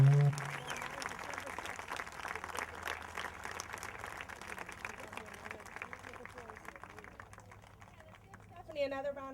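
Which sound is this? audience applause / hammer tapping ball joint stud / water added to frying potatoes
audience applause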